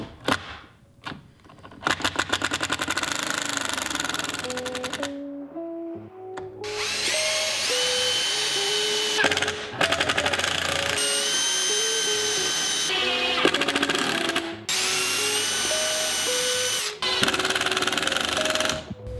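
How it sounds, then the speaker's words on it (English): Repeated close bursts from a cordless drill boring holes and driving screws into wood for a DIY vinyl record storage unit, the motor pitch rising as each screw tightens, with short pauses between runs and no talking. "I'm gonna go ahead and follow through on the holes and then put the screws in."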